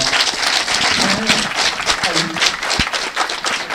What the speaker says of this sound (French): Je voudrais vous prier d'applaudir pour le centre de formation professionnelle naissant.